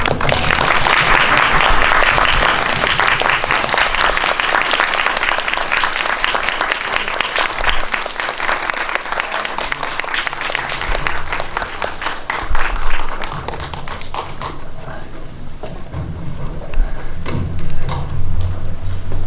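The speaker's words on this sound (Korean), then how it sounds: "저희 들어오시면 큰 박수 부탁드릴게요" A large cinema audience at Megabox Seongsu gives dense, sustained applause as the director and actors walk in for a post-release talk; the clapping fills most of the stretch, then thins into scattered claps near the end.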